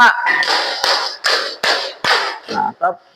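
A classroom of students claps together in a counted clap pattern game, several quick sharp claps mixed with loud group voices chanting along, close and bursty.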